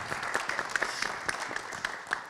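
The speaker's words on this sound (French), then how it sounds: "on vous applaudit aussi" Light applause from a seated conference audience, sparse individual claps rising and falling briefly and fairly quietly.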